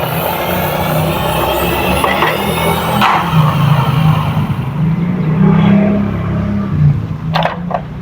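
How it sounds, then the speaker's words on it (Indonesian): Orange toy model garbage truck sliding down a track, a continuous loud rolling rumble and scraping that carries steadily throughout, ending with a couple of brief clicks. "sampah warna oranye meluncur."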